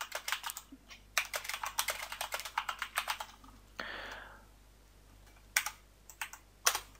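Close typing on a computer keyboard, with bursts of rapid key clicks, a pause, then a few scattered keystrokes, heard alone without talk.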